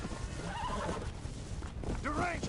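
War's horse in the Red Dead Redemption Undead Nightmare game gives a brief, close whinny near the end, with a fainter neigh earlier, over a busy game background.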